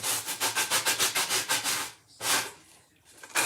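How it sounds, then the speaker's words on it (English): Sandpaper on a sander rubbing down the edges of a wooden farmhouse door hanger, a close, loud rhythmic scrubbing of quick strokes that breaks off, then returns in a couple of short bursts. "that comes off really quick, just like that with the sander, with the sandpaper"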